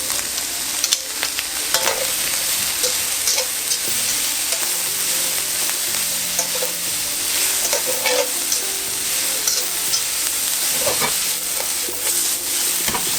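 Mushrooms tossed into frying onions sizzle steadily in a hot pan while a utensil scrapes and stirs in repeated strokes, close and fairly loud, with no voices.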